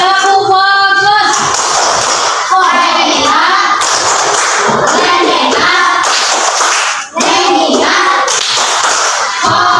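A class of children performs the 'tepuk fokus' clapping routine, rhythmic bursts of group clapping mixed with chanted voices, loud and close, with a brief pause near the end before the clapping resumes.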